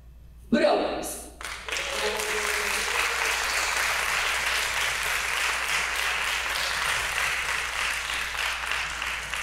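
Audience applause for a band at a Cuban music award ceremony, breaking out after a brief voice and continuing as steady, dense clapping throughout.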